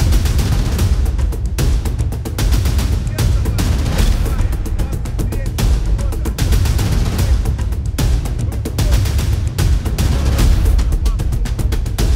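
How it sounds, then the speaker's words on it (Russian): Explosions and bangs ring out as a drone or aircraft is shot down and falls, sharp repeated blasts and cracks over a constant rumble, with excited voices talking throughout. "Сбили, бабахнуло два раза, взорвалось, падает."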